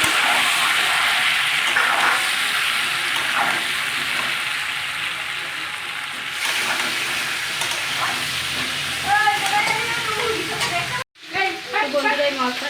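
Potato and pumpkin pieces sizzle and hiss steadily in a hot pan, with a brief cut and some clattering near the end.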